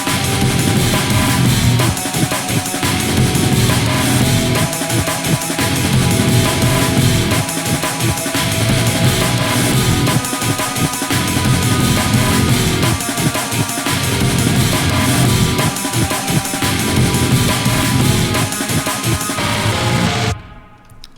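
A dense, loud metal cover of Ultrakill music in which layered distorted guitars chug continuously in a full wall of sound, alone without talking, cutting off abruptly at the end.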